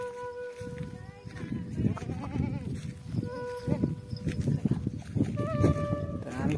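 A large goat on a farm bleats repeatedly, close and fairly clear, mixed with a bustle of background voices and rustling; people talk through much of it.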